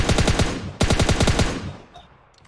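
Rapid automatic gunfire in the mobile shooter PUBG Mobile, two loud close bursts of fast repeated shots separated by a brief gap, then fading into quieter background sounds.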